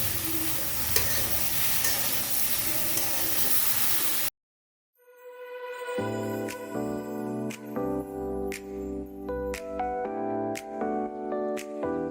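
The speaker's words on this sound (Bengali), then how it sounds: "ধুন্দল মশলার সাথে ভালো করে মিশিয়ে নিব" Ridge gourd stirred and mixed with spices in a hot pan for a fish curry, a loud steady sizzle and scraping, then a brief silence before the frying resumes with rhythmic stirring strokes.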